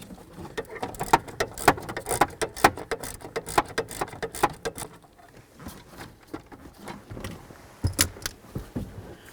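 An inverted Torx bolt is worked loose from under the steering column of a 1994–2004 Chevy S-10, giving close, irregular metallic clicks, ratcheting and jangling rattles in uneven bursts, with a quieter stretch midway.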